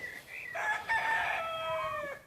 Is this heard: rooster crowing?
yes